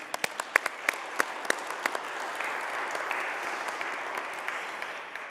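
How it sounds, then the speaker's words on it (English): A church congregation claps for its deacons, a steady wash of applause with sharp individual claps standing out near the mic, continuing evenly for several seconds. "let's clap for deacons"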